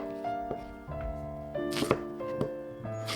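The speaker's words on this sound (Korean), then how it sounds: "껍질 벗긴 감자를 잘라줍니다." Knife chops peeled potatoes on a cutting board, several separate sharp thunks at an uneven pace over a steady background hum, with no talking.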